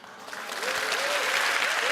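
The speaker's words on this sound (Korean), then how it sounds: "세바시 하다 보면 이렇게 막 박수도 나오고 이러는구나" Audience applause at a Korean lecture-style talk, a steady broad wash of clapping swelling slightly over two seconds, with a voice faintly audible beneath it.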